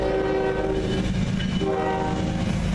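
A CN ES44DC diesel locomotive leads a northbound freight train at Ladysmith, its horn sounding in sustained steady tones over the rumble and clatter of the passing train.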